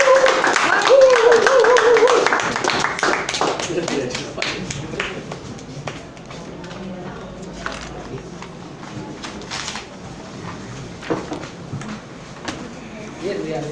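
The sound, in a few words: audience applause at club meeting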